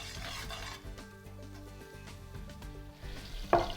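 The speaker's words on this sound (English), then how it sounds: "we're going to actually add 1 stick of butter, and we'll place it in the pan to melt" A stick of butter melting in a hot pan gives a steady close sizzle with light clinks and stirring scrapes of the pan, with no talking.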